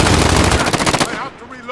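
Rapid automatic gunfire from a machine gun in Call of Duty Modern Warfare (2019), a loud fast burst of shots for about a second that cuts off, leaving a fading echoing tail.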